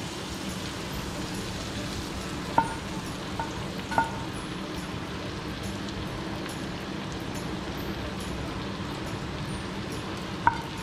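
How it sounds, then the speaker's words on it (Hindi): Tawa chicken frying on a flat griddle over low heat, a steady broadband sizzle throughout with a few faint clinks from utensils and no speech. "हल्की आंच पे बन रहा है।"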